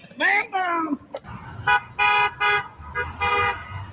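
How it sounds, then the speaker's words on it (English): Car horns honking in street traffic, a string of loud blaring toots in short bursts of varying length, with a voice shouting over the start. "They're honking at me."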